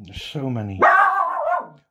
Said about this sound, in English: that is my dog probably seen a cat out the window